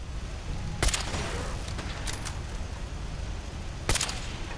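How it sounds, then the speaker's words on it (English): Anti-materiel rifle firing in Fallout 4, two sharp loud shots spaced about three seconds apart over a steady background rumble of game ambience. "Let's get out the anti-material rifle."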